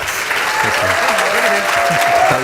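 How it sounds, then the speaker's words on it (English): Standing ovation from a debate audience, dense steady clapping filling the room from start to finish, with a few voices calling out beneath it. "You guys are getting a standing applause"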